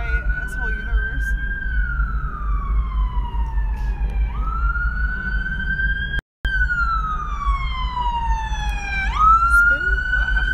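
An ambulance siren sweeps past on a city street, its wailing tone rising and falling over steady traffic rumble, loud and close throughout, with a brief dropout midway.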